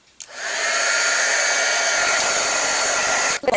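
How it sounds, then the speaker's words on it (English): A heat gun used to melt embossing powder switches on with a click and blows a steady, loud whooshing hiss for about three seconds, then cuts off with a short clatter. "Always cover the powder before you turn your heat gun on."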